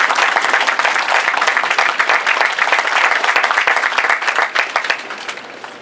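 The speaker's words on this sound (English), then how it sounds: "Ladies and gentlemen, please join us in a round of applause for his devotion to country," Audience applause at a Marine Combat Training graduation for Golf Company, honoring a combat instructor: a dense, steady roar of many hands clapping that holds for several seconds and then starts to thin and fade at the end.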